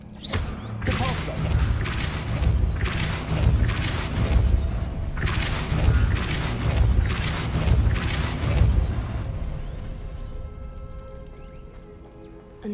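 The Depulso spell is cast in Hogwarts Legacy, giving a loud, continuous rush of mechanical whooshing and rumbling. Repeated pulsing surges run for several seconds, then fade to a quieter hum.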